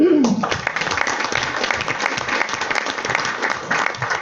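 A board meeting audience applauds graduating students headed for military service, a dense steady round of clapping from start to finish with a brief voice at the very start.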